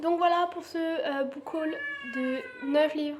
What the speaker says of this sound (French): Encore désolée pour mon chat.